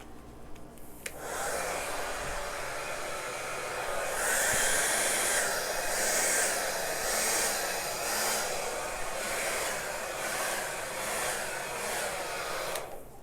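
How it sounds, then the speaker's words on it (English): A blow dryer roars steadily for about twelve seconds, blowing out an acrylic paint pour in greens and purple; a loud, continuous airy rush starts abruptly and cuts off sharply. "I'm going to make some noise with my blow dryer."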